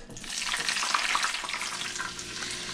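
Banana, sweet potato and yuca chips frying in a batch of hot oil give off a dense, loud, bubbling sizzle that swells and then eases slightly, steady and close with no voices.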